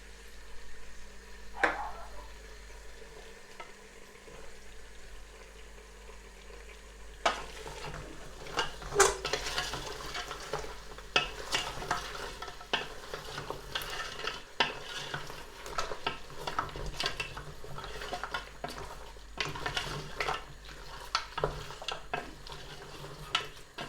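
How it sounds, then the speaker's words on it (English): A spoon stirs and scrapes through sizzling cow foot stew with soy and oyster sauce in a pot, soft clinks and rustling scrapes repeating steadily for a long stretch. "It's gonna give that a nice stir."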